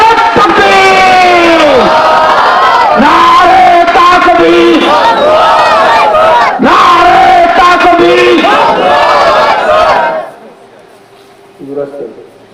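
A large crowd at an Islamic religious gathering chants the takbir slogan in loud, rhythmic unison, several repeated call-and-response shouts of many voices, then fading to near silence with a faint voice at the end.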